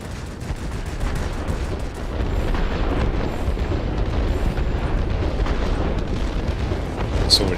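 Fuel storage depots struck by rockets burst apart in the World of Warplanes combat game, a dense, continuous rumbling blast and crackle that stays loud and steady for several seconds.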